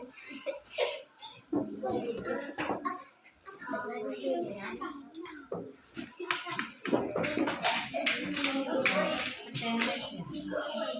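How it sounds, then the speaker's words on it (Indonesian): A primary school class claps hands in scattered, uneven bursts, mixed with children's voices and a teacher speaking over the noise in a classroom. "Iya, tepuk tangan semuanya."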